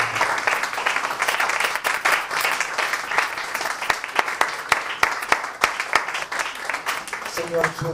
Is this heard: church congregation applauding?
yes